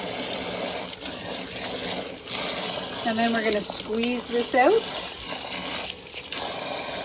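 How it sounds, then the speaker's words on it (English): Kitchen tap water running steadily over salted relish vegetables being rinsed, a continuous close rush, while a person talks partway through. "let the water run"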